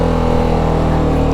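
BMW sports motorcycle engine idling and pulsing at a steady, loud drone while crossing a water crossing on a mountain road, with no voices.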